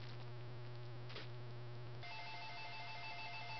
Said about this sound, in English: That was just my phone going off.